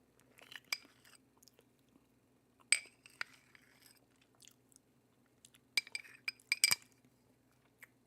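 A spoon clinks against a small glass bowl while someone eats flan with whipped cream, giving scattered sharp, bright taps and clusters of clinks, close and quiet, with soft chewing sounds between them.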